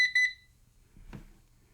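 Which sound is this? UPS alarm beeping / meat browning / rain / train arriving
UPS alarm beeping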